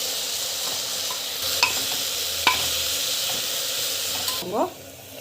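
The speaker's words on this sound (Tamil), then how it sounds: "ஸோ நல்லா வந்து வதங்கிட்டோம். இப்படியே வந்து வதங்கிட்டோம்." Masala with chilli powder is sautéed and stirred in a pan, a loud steady sizzle with occasional spatula taps, ending in a brief scrape as the frying noise drops away.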